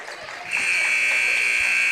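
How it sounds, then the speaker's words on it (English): A loud, sustained electronic end-of-game buzzer blares at a junior high basketball tournament after a short stretch of crowd noise, holding a steady harsh tone to the end. "Based on the results, buzzer sounds."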